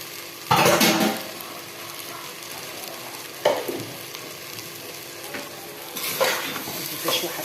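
Cumin and other ingredients being sautéed and stirred in a pan for a fish and onion rice dish, with a steady sizzle broken by three loud scraping stirs at intervals, alone without talk.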